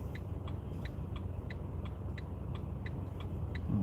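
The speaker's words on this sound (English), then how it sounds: "Cars are moving up here now." Cars drive along a snowy road at night between Wigan and Ashton-under-Lyne in the UK, a low steady rumble of tyres and engines with a faint repeating tick on top and a heavier surge near the end.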